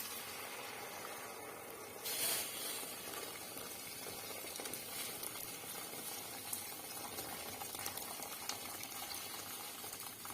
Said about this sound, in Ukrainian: Тепер це заливаємо двома літрами кип'ятка.